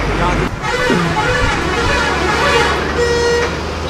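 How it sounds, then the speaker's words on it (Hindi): Vehicle horns honk loudly over constant road and engine noise on an Indian highway between Delhi and Rajasthan, several sustained toots at different pitches from passing traffic, with a voice briefly heard. "हाईवे पर आओ तो ये वाले हॉर्न सुनने को बहुत मिलते हैं"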